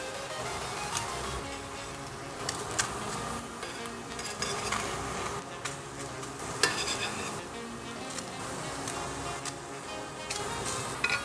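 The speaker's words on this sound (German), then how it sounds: "Wir werden zuerst Rindfleisch anbraten" Steady crackling sizzle of beef strips frying in a hot pan without fat, with occasional louder pops and clinks throughout.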